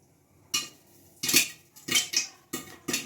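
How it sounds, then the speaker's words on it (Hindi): Popcorn pops inside a covered pot on the stove, with a few sharp, uneven bursts striking the lid and metal, clinking in irregular clusters close by and otherwise quiet. "अभी हमारा पॉपकॉर्न बनना शुरू हो गया है"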